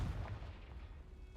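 A Confringo spell blast in Hogwarts Legacy, a dull low booming burst at the start that then rolls off into a rumbling, noisy decay, with no talk.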